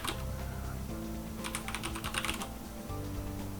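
Quick runs of crisp keystrokes on a computer keyboard as text is typed into a browser text box, close-up over a steady hum in the background.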